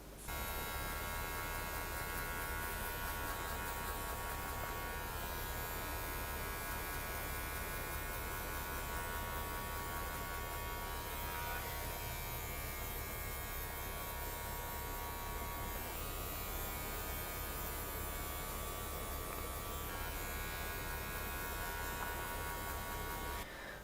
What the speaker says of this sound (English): I go with my clipper with no guard open and just keep flicking away at that line